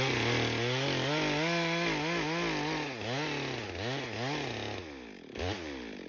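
A chainsaw cuts a horizontal back cut into a tree, its engine roaring loud and close throughout, pitch rising and sagging repeatedly as the chain bogs and recovers in the wood.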